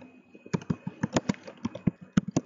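Someone types on a computer keyboard in a quick, uneven string of crisp close clicks, each keystroke distinct, with a faint steady hum underneath and no talking.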